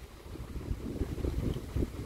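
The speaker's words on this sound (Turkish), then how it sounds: "Bugün hafif rüzgarlı, hava güzel." Steady low rumbling light wind buffeting the microphone outdoors while kayaking on Florida waters, gusting slightly louder toward the end, with no voices.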